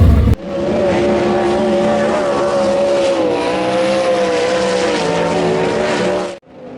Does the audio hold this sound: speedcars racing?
yes